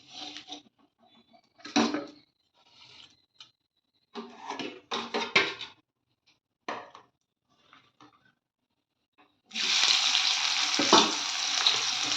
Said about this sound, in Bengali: আর এদিকে আলুটা একটু সিদ্ধ ছিল, এটা একটু ভেজে নিলাম